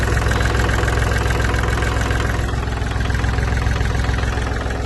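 A Kubota L3608 tractor diesel engine idles steadily with a loud, close, even knocking rumble throughout, no voices heard.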